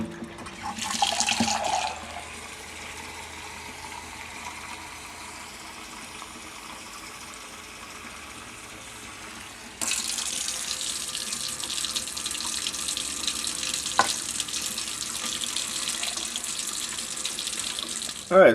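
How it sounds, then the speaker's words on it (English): Water from a kitchen tap runs into a pressure cooker pot holding whole peppercorns, filling it to the line: a steady splashing stream, then a louder, fuller gush partway through, close by with no talk. "just fill it up with water to the line"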